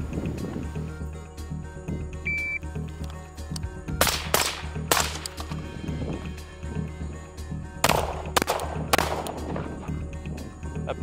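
Pistol shots at an outdoor shooting range, several sharp loud cracks spaced across the stretch, some in quick pairs, over a steady low background hum.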